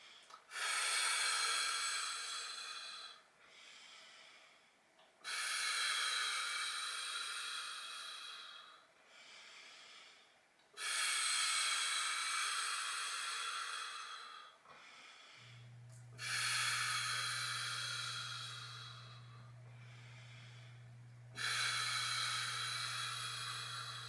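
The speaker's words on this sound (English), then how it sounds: "breathing in to relax and release, and breathing out" During a seated chair exercise, a person takes four slow, deep, close breaths, each a long airy inhale and exhale with short pauses between, and a steady low hum joins partway through.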